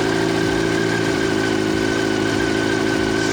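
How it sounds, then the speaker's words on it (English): A Yamaha FZ1 motorcycle engine idles steadily and close by, a continuous even hum with no revving. "But if I start the engine,"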